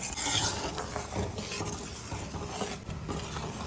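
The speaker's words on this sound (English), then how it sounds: "Stir in till it is nice and smooth." A pot of coconut milk, jaggery and rice flour batter being stirred for Goan dodol, with a busy scraping, bubbling texture of spoon movement and a faint sizzle, steady and fairly close throughout.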